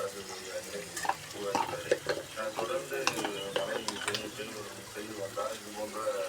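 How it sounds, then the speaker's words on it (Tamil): Tomatoes and curry leaves sautéing in a pan for sambar, a busy crackling sizzle broken by repeated scraping stirs of a spoon, with a voice talking over it. "தக்காளி பழம் வதங்கியாச்சு"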